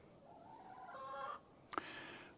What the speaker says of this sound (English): The chickens are really getting noisy over there.